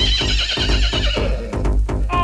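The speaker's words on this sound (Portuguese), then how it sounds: "Ó o cavalo!" Repeated loud whinnies from a horse in a steady looping rhythm, close-up, mixed with clip-clop hooves and no speech.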